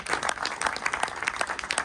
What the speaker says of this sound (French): Merci Clément, je crois qu'on peut vous applaudir.